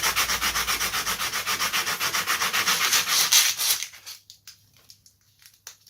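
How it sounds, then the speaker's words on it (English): Sandpaper rubbed rapidly back and forth across a balsa wood plug on a model airplane build: a loud, rhythmic scratchy rasp with even strokes for about four seconds, then a few softer, scattered rubs before it stops. "you can do this, nice bit of sandpaper"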